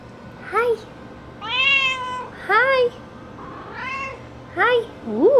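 A grumpy cat meowing at the rain indoors, five or six drawn-out, rising and falling meows spaced a second or so apart, close and clear over a quiet background.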